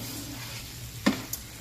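Pork tenderloin cooking covered on low heat in a pan, giving a faint, soft sizzle with a couple of quick clinks or stirring taps near the end.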